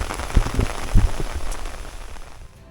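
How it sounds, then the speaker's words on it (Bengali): Rain falls on an open golf field at Shamshernagar, Moulvibazar, a diffuse patter with a few louder thuds early on, fading toward the end, with no talking. "আপনাদের এই বৃষ্টির মুহূর্তটাও দেখানোর চেষ্টা করছি"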